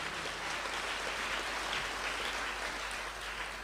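A church congregation claps together during a worship service, a dense, steady roar of applause held evenly throughout with no voices over it.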